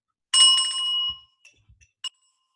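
An inexpensive handbell, pitched slightly flat, gives one clear bright ring that decays over about a second, followed by a few soft handling knocks and a brief second ding, close and alone.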